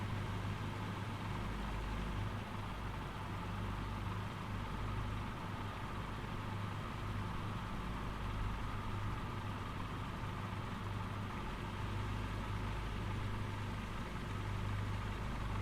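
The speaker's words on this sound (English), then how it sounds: "this bunch of nice-looking Gravels taxiing down the taxiway" Several Savage Gravel light aircraft taxi along a taxiway, a steady low engine drone with a constant hum running throughout, moderately loud and continuous with no talking.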